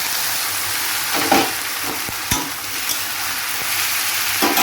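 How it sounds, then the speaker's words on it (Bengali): Chopped vegetables tipped into hot oil already cooking onion, green chili and spices for a Bengali chalkumro shak stalk chochchori, giving a steady close sizzle broken by a few sharp stirring clanks and scrapes. "এবারে আমি কেটে রাখা সব সবজিগুলো দিয়ে দেবো"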